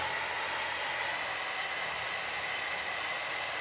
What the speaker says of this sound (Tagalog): Mainit kasi yung blower pagka malakas.